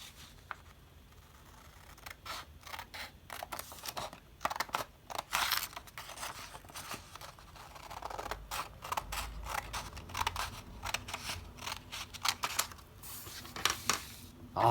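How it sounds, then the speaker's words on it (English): Scissors cutting through origami paper, close and fairly quiet, with repeated crisp snips and creaky blade strokes in irregular bursts, plus some paper rustling. "grab your scissors and you're going to cut off right here all that extra paper we don't need"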